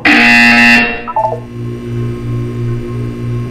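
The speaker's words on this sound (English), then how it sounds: "You will hear a buzzer. When you hear the buzzer, look down at the floor." A loud electronic buzzer blares for under a second in Portal 2, then shorter tones follow, trailing off into a low humming drone.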